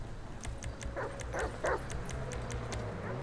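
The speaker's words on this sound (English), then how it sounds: "Guys, it's a dog right here trying to fight me." A dog barking in GTA 5 during a modded gang brawl, a few close, short barks and yips in a loose rhythm over a steady low rumble of game background noise, with a series of faint, regular ticking clicks.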